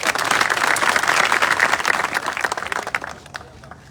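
A gathering of farmers bursts into sustained applause, dense clapping from many hands filling the space, then thinning and fading toward the end.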